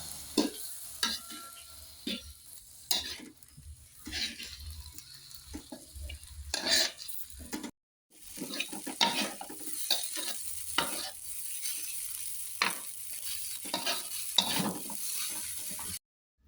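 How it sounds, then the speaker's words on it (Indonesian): Oseng kacang, Indonesian stir-fried beans, cooks in a pan with a constant close sizzle and repeated scraping stirring strokes. A brief silent gap falls midway before the frying and stirring resume. "Masak oseng kacang."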